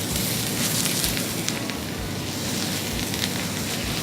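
Chicken searing in a very hot pan, a loud close dense sizzle that holds steady and continuous throughout, with no talking.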